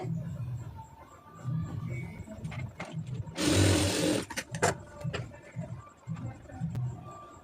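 A sewing machine stitches thread piping onto a garment sleeve in short bursts of rapid mechanical whirring, with quieter pauses between runs and one louder, broadband burst partway through.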